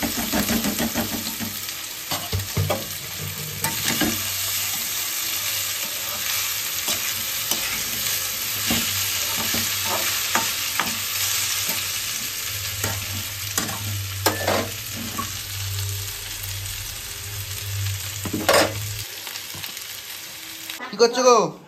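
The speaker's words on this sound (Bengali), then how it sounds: "এই যে আলু তেল বসে দিচ্ছি, আলু ভাজা করবো" Potatoes frying in hot oil for aloo bhaja, a continuous close sizzle broken by repeated scraping and stirring strokes of a spatula in the pan, with a louder clatter at the very end.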